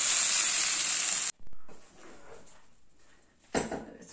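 Pepper and tomato sauce hits a hot pasta pan with a loud, steady sizzle for over a second, then drops to quieter crackling and stirring before a second brief hiss.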